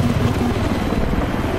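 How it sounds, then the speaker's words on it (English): A helicopter in the Battlefield 3 video game thrums with a steady loud low rotor chop and engine roar, continuous and close, with no talk over it. "helicopter."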